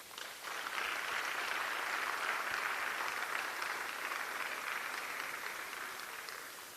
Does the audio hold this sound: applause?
yes